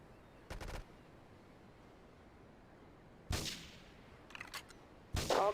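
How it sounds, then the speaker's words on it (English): Three short bursts of gunfire in Grand Theft Auto 3, separated by quiet gaps, the later ones louder and more clustered, sharp and percussive. "Investigate reports of gunfire and explosions."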